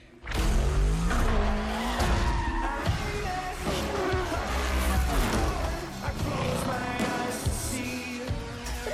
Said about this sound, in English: So Forza is Xbox's, it's their car game, it is their racing simulator